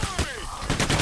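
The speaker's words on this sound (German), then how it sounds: "Ich hab dir gerade ins Bein geschossen" Gunfire in the video game Payday: The Heist: a quick burst of several sharp shots, a brief gap, then more rapid shots, fairly faint, with no talk.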